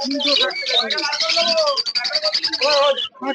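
Small cage birds at the Uluberia bird market near Uluberia chatter and chirp densely up close, a busy overlapping flurry of high tweets and trills.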